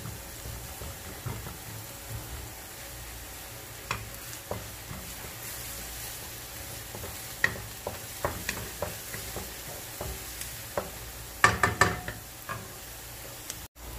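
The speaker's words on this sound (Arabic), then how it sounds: "هاي بعد ما دبلت عندي البصلة قبل ما يصير لونها ذهبي او تحمص مظبوط" Onion in olive oil sizzles steadily in a pan, with a soft continuous frying hiss and intermittent scraping clicks of stirring that grow busier toward the end. It is close and moderately quiet, and no one speaks.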